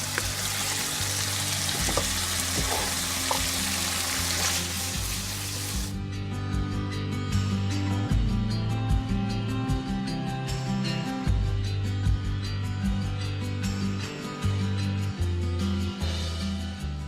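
Thai rad na, noodles with vegetables and tofu in gravy, being stirred in a hot pan, with steady sizzling and frying noise throughout and a few soft scrapes, fairly loud and close, with no talk.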